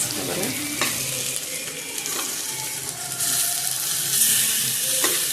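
Potatoes are sautéed and stirred in a pan of prawn curry masala, a steady sizzling fry with scraping stirs and a few light clinks of the spoon, loud and close.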